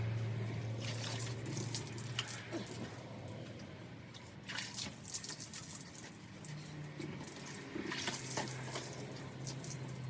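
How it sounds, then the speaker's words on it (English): Water sprays and drips while a caravan is rinsed down, a soft, steady splashing and trickling that swells in patches over a low background hum. "I'm just going to literally just rinse this down with the Bobby Dazzler"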